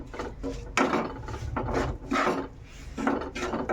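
Garlic-chilli pickle with Kashmiri chilli powder is stirred in a bowl, giving close, rhythmic scraping and rubbing strokes, roughly one stroke every half second.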